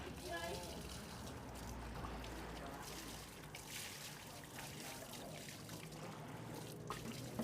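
Water trickles and splashes as rice noodle dough is rinsed by hand, a steady wet sloshing and dribbling at close range, part of old-style Lao khao poon making at a busy noodle shop.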